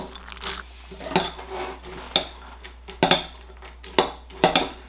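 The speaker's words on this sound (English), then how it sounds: "Then we give them a nice good mix." A spoon stirring chocolate peanut butter Cheerios into milk in a bowl, clinking against the sides in a series of sharp taps and scrapes, with soft wet swishing between them.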